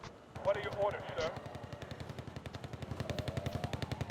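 Rapid, evenly spaced weapon fire from the military strategy game Wargame: AirLand Battle rattles on as a continuous automatic burst, with a voice talking over the start.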